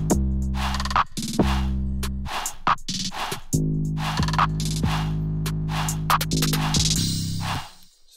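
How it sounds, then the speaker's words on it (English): An electronic 808 drum pattern plays with booming sustained bass tones, sharp hits and hi-hat ticks in a steady bouncing rhythm, with no voices. "it sounds like this all together, all the drums."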